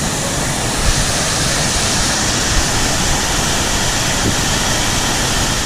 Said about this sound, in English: Here's the waterfall ahead.